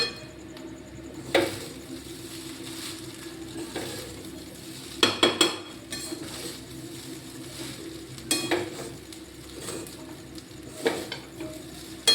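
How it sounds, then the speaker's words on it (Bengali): Egg biryani with ghee is stirred and fried in a pan, a steady sizzle running beneath clustered knocks and scrapes of the spoon against metal, close up. "এটা মিশালেই হয়ে যাবে আমার বিরিয়ানি, ডিম বিরিয়ানি"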